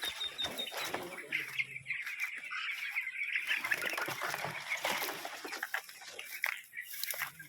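Chickens clucking at a poultry farm, a dense, fairly faint chorus of clucks and squawks with occasional wing flutters, continuous over background noise and no clear talk.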